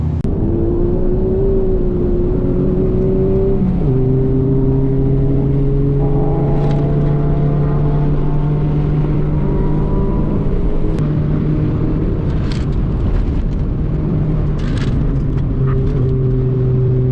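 Hyundai Getz on a track day heading out for a shakedown lap, its engine droning loudly with rising and falling revs through gear changes, steady and close throughout.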